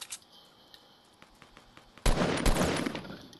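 Gunfire in a shooter video game: faint, distant pops at first, then a loud, sustained burst of rapid shots from about two seconds in that slowly fades.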